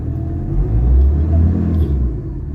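Ford Ranger 3.2 engine idling rough with strong vibration, a close, loud low rumble that swells and eases over a couple of seconds.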